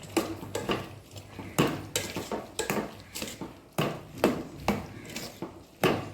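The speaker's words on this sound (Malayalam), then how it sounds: "തേങ്ങ നമ്മളിതിലേക്ക് ഇടുകയാണ് ഓക്കെ നമുക്ക് മിക്സ് ചെയ്യാം" Jackfruit curry with grated coconut being mixed in a pot, a spoon knocking and scraping against the pot in repeated clatters, steady and close, with no voices.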